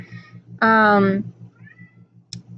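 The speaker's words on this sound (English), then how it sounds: "apologize for my cat that you hear in the background" A hungry house cat gives a single loud, drawn-out meow close by, with faint softer vocal sounds around it and a low rhythmic hum underneath.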